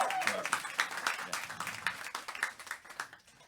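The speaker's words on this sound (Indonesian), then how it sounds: "Ya, tepuk tangan." Audience clapping after a 30-year civil service Satya Lencana Karya medal is shown, dense overlapping claps filling the space with a steady rattle that thins toward the end, voices mixed underneath.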